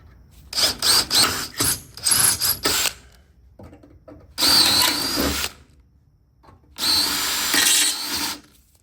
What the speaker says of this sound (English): Drill the old ones out.